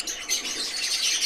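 Masked lovebirds (Agapornis personata) in an aviary give a continuous, dense, high-pitched chatter of overlapping chirps, close and fairly loud.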